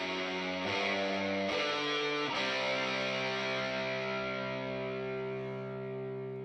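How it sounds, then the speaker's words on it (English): Electric guitar track with reverb in GarageBand, sustained chords ringing with a wash of reverb and a few fresh strums, at steady moderate loudness with no talking. "So here's his guitar track. It's probably already got some reverb on it."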